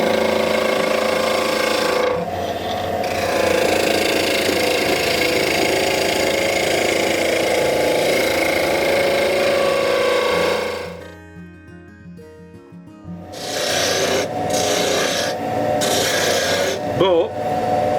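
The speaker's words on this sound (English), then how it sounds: "So we can go on the bevel and we take it across." A chisel cuts wood spinning on a lathe, giving a loud, close rasping roar for about ten seconds, then quieter motor hum with brief scraping passes and short bursts of cutting.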